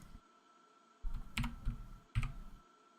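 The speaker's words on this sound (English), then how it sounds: "And I do have loud clicky keyboard," Bursts of clicky keyboard typing come in two short runs with a pause between, close and fairly quiet against a faint steady hum.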